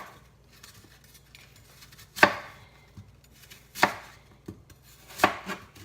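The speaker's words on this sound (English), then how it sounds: "I'm going to dice them up so that I can mix all of my spices into it" Apples are diced with a knife on a cutting board, giving three or four sharp, separate chops a second or so apart, close and clear against a quiet room.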